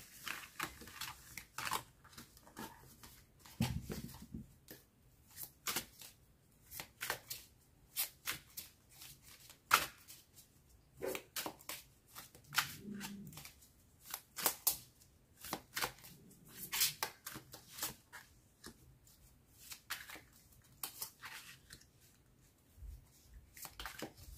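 Tarot cards being shuffled for a reading, a long run of close, crisp riffling and slapping bursts with short pauses between them.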